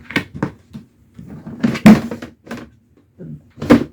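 A large secondhand drawer from a thrift store makes a series of loud wooden clunks, bumps and short sliding scrapes in an uneven rhythm as it is opened and closed, close up.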